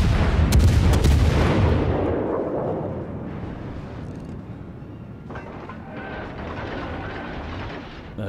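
Warship guns fire in World of Warships from a Tier VI premium cruiser, a heavy booming salvo that rumbles and fades over several seconds, followed by quieter distant blasts and no talk.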